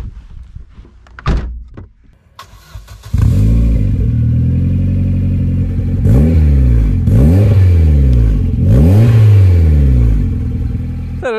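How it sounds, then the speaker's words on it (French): Ford Escort RS Cosworth engine cranking and catching, then settling into a loud, close idle with several rising and falling revs blipped up in succession. "Et puis on va directement démarrer le véhicule."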